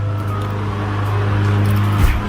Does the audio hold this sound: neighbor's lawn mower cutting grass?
yes